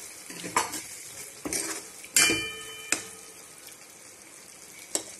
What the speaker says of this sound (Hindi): अब मैं ये अरबी है इसमें मिक्स कर देती हूँ।